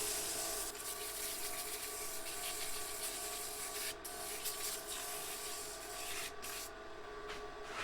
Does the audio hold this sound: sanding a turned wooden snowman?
yes